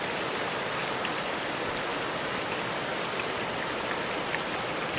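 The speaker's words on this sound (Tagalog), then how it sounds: "Thank you Lord sa malakas na ulan." Heavy rain pouring down over rice paddies, a dense, steady hiss of close, loud downpour that never lets up, with no voices.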